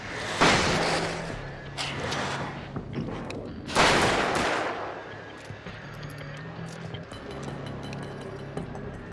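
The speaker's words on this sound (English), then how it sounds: "And I have a few flashbangs that I can just click." Flashbangs go off in the video game Alan Wake's American Nightmare, two loud bursts a few seconds apart, each followed by a ringing, rumbling decay over a low game drone.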